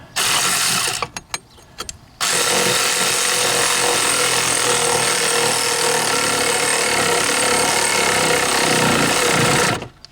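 An electric impact tool working on a leaf spring bolt of a 1998 Corvette, a loud continuous buzzing rattle that runs for about eight seconds after a short burst and pause, close to the microphone.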